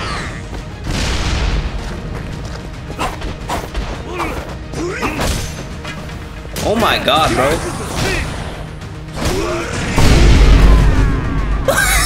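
Arm-mounted cannon blasts in the action game Like a Dragon Gaiden: several loud booming explosions over busy combat noise and music, with a big heavy burst near the end, while someone talks excitedly over the action.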